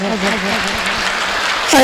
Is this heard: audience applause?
yes